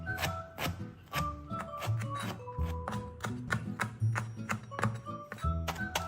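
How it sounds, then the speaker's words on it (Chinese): Knife chopping soaked preserved mustard greens (meicai) finely on a cutting board, a quick irregular series of close, soft taps and thunks. "先将梅菜切细，再剁碎"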